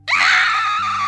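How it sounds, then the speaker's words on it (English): A blood-curdling scream from a TV room, one loud sustained shriek held for about a second without any break. "Bum just finished scrubbing the toilet when he heard a blood-curdling scream from the TV room."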